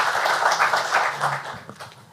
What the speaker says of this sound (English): applause to them also